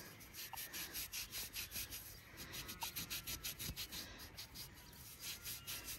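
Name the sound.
rubbing dirt off a metal-detected relic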